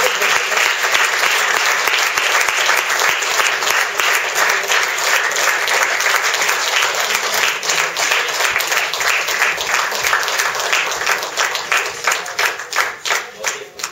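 A large audience at a mentor-of-the-year award ceremony gives loud, sustained applause, dense clapping filling the room for many seconds before thinning out and fading at the end.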